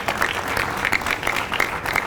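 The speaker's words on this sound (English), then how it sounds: "Let's give Councilwoman Santana a round of applause." Applause from an audience at a city press conference, a brief steady patter of many hands clapping at moderate distance, lasting about two seconds.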